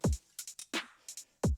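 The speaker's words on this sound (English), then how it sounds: "So what we're adding is this hi-hat." A punchy drum loop: deep kick thumps with quick hi-hat ticks and a snare crack in a bouncy rhythm, no voices.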